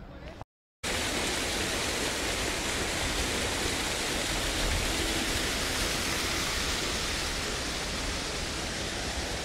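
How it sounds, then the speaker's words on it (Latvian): A small river with a waterfall runs through a town, making a steady, dense broadband rush of falling water that holds evenly throughout after a brief cut near the start, with no voices. "Pilsētai cauri tek upīte ar ūdenskrituma ļoti jauki."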